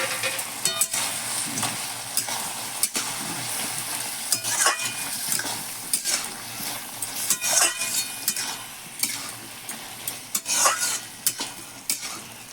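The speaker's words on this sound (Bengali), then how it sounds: "এবার আমি দিয়ে দিচ্ছি যে ভেজে রেখেছিলাম সে বড়িগুলো।" Pre-fried lentil dumplings frying with Malabar spinach in a pan, stirred in quick uneven scrapes and clinks over a continuous close sizzle.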